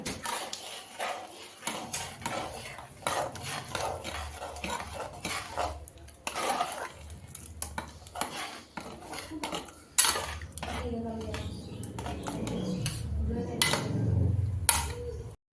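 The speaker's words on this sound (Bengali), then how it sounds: "তো আমি বাটারটা দিয়ে দেব আর গরম মশলাটা দিয়ে দেব, দিয়ে নাড়িয়ে নেব।" Spoon clinks and scrapes against a pan while butter and garam masala are stirred into rajma, with steady clattering strokes that grow denser and louder toward the end, alone without talk.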